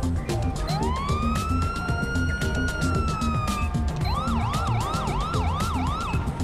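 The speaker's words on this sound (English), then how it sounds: "You've got various sirens tones by using 1, 2, 3, etc. on your keyboard." Police car siren tones in the game GTA5 play loudly and close, a long rising wail that shifts into a fast repeating yelp, over a low rumble of the car.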